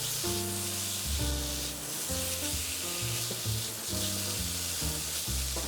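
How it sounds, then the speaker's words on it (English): Smoked salmon sizzles steadily in a hot wok, a continuous close hiss of frying with a repeating musical backing underneath. "add our salmon to a hot wok for about 60 seconds"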